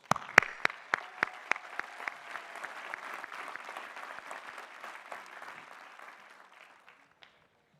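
Applause for master's degree recipients at a graduate commencement ceremony, beginning with a few sharp nearby claps and swelling into dense hall-wide clapping that gradually thins and fades out.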